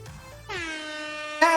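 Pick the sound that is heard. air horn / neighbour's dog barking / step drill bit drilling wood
air horn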